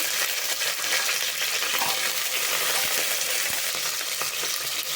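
Curry leaves, small shallots and cumin seeds fry in hot oil, giving a steady, dense sizzle and crackle that runs evenly throughout, close and fairly loud, with no talking.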